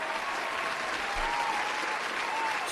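Applause, a steady dense wash of clapping held at an even, moderate level throughout, with no breaks.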